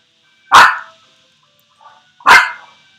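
Two loud, close dog barks about two seconds apart, with a soft muffled woof between them over a faint steady electronic tone.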